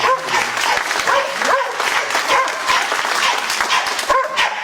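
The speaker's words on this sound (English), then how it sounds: "Do we have a round of applause for that?" Steady crowd applause at an event about dog-friendly places in the UK, with a dog barking and yipping through the clapping and a murmur of voices underneath.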